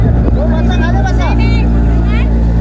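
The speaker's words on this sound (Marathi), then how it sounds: "चला चालू झालेला आहे आपला प्रवास बोटीतला." A motorboat engine drones steadily and loudly throughout a boat ride near a sea fort, with chirpy voices and chatter from passengers over the constant hum.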